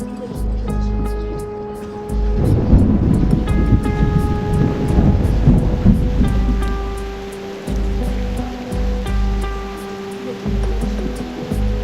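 Stormy ambience from the video game Reverse: 1999, with heavy rain-like noise swelling loudly in the middle alongside sustained musical tones and periodic chimes; the storm texture sits mixed under a score.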